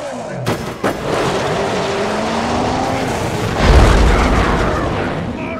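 A deep, loud explosion booms and rumbles in a Mad Max boss fight, with a sustained roaring low rush afterward and a couple of sharp cracks near the start.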